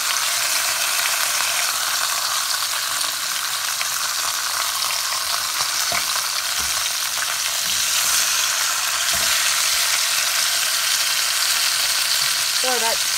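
Beef short ribs sizzle loudly in a stovetop pan as they are flipped, a dense, steady crackling hiss that carries on throughout, with faint knocks of handling and no talk.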